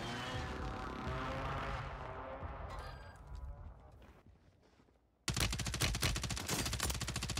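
BAL-27 rifle gunfire in Warzone 3, a rapid automatic burst that starts abruptly and rattles loud and continuous to the end, after a stretch of quieter game ambience and fading effects.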